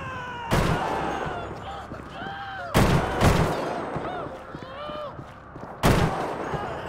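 Sharp, loud single shots from a weak sniper-like rifle in GTA V zombie mode in a ruined Los Santos, four cracks spaced a second or more apart, with someone talking between them.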